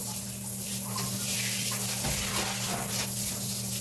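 Hot water is splashed and spread over bathroom floor tiles during cleaning with an acidic detergent. A steady wet wash of water sounds close by and continuous, with no voices.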